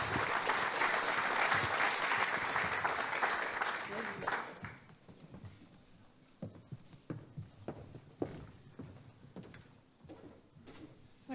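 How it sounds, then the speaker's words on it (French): A conference audience at an annual meeting's round table applauds loudly for about four seconds. The clapping then fades into scattered claps and faint room noise. "on peut les applaudir"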